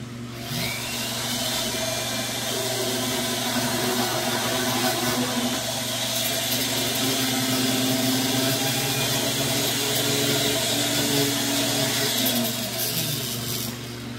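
A handheld rotary tool burnishes a carved fire agate with a steady, loud high-pitched whine and grinding hiss that runs unbroken for about fourteen seconds, with no talking.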